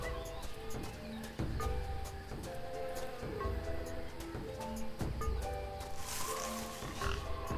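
A boar grunts and snorts within a noisy, looping jungle soundscape in the video game Monkey Island. The animal calls repeat steadily against continuous background ambience.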